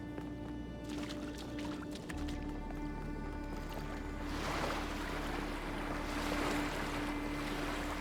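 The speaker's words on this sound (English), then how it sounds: "The water is very loud in here." Loud, steady rushing of flowing water in The Talos Principle II video game, a continuous broadband wash that swells slightly louder midway, with a low hum beneath and no talking.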